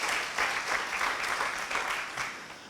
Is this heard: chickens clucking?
no